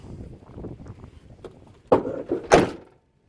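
Low rustling and handling noises, then a rusty 1979 Chevrolet K10 Silverado pickup truck door slams shut with a solid metallic thunk, followed by a second rattling bang.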